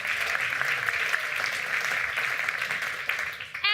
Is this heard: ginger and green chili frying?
no